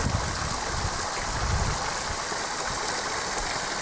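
A small stream keeps running beneath ice on a freezing day along an abandoned railway, producing a steady, close rushing and gurgling wash with no voices.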